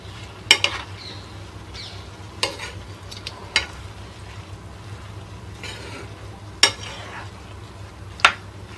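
Sprouts being stirred into pasta salad in a pan, a soft steady sizzle punctuated by several sharp metallic scrapes and taps of a spoon against the pan.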